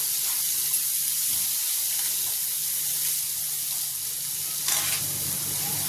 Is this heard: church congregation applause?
no